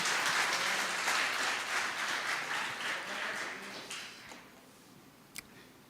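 Congregation applauding during a church sermon: dense, steady clapping from many hands fills the room, then thins and fades out over the last couple of seconds, ending with one sharp isolated clap.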